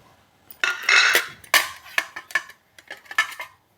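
Metal idli plates clatter and clink as they are handled, a quick run of sharp, close, loud knocks and rattles with short pauses between them, and no voices.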